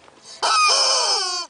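A person's voice imitates a chicken crowing, delivering a loud, strained cock-a-doodle-doo that holds steady for about a second and then trails off, with no other sound alongside it.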